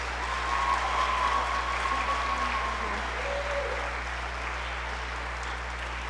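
An audience at a spring choral concert applauding an honoured two-year All-State student receiving a plaque, a steady sustained clapping from a full room, with a low constant hum beneath.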